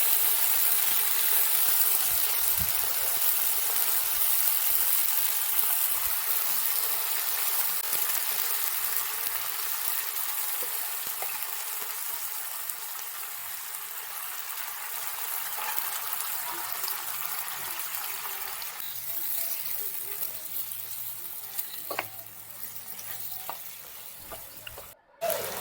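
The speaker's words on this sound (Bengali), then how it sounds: "মটনটা এর মধ্যে ঢেলে দিতে হবে।" Cooked mutton tipped into a hot pan of whole garam masala, frying with a loud, steady sizzle and stirring close by, the hiss easing slightly toward the end with a few clinks of the spoon.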